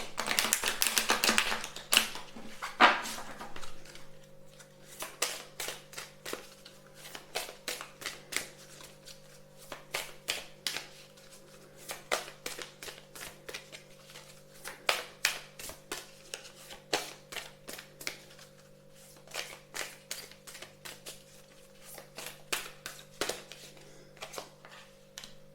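Playing cards shuffled by hand at a table, a burst of riffling up front followed by long runs of quick, crisp card flicks and taps, fairly quiet and close over a faint steady hum, with no talk.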